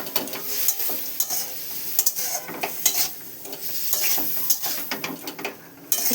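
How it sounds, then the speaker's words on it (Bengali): Ground spices sauté with prawns, potato and bitter gourd in a pan, giving a continuous sizzle broken by frequent scraping and clinking strokes of a spatula against the pan, close and fairly loud, with no talking. "এবার একটু কষিয়ে নেব।"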